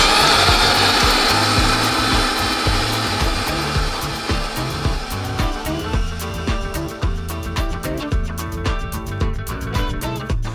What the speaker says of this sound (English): So, again, we're gonna ream it